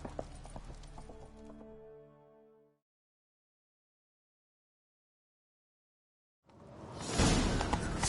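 Horse hooves clip-clopping in The Witcher 3 video game, a steady beat with tonal music in the first two seconds, then silence, then a loud rush of galloping and movement noise.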